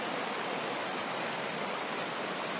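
The Turon River near Coles Bridge flowing fast, a dense steady rushing wash of water, loud and continuous with no other sounds.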